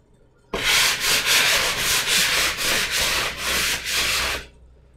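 A mobile home wall panel is sanded smooth by hand in a continuous, close, loud scratchy rasp lasting about four seconds, pulsing with each back-and-forth stroke.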